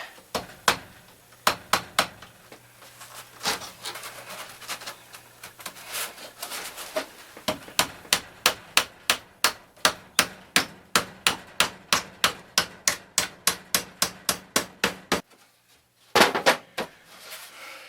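A hammer drives tacks into wooden beehive inner covers with sharp, rapid knocks, first sparse, then a long quick rhythmic run of strikes, close and loud.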